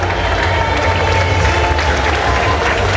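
A crowd at the Miss Oise 2015 pageant results at Parc Saint Paul applauds loudly and steadily for a contestant, dense clapping with faint voices mixed in.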